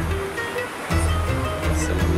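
Waves of the Mediterranean Sea wash steadily against the Turkish coast, a constant surf roar with a louder swell partway through.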